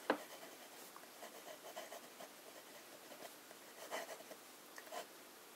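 Pen with Akkerman Chinatown Red ink writing on paper, faint close scratchy strokes coming in short bursts with small pauses between words.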